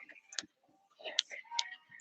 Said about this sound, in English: I'm sure you can hear my necklace banging against my chest right now.